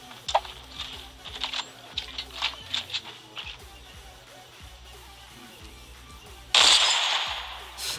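Gunfire in the Fortcraft mobile battle-royale shooter game comes as a run of sharp, quick shots, followed by a louder burst near the end, with no one talking.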